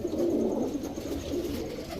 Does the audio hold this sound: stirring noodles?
no